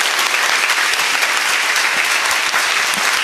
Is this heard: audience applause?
yes